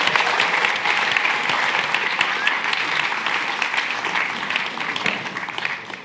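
An audience at a tech festival applauds the AI ethics panelists, sustained full clapping from many hands that holds steady and eases slightly at the close.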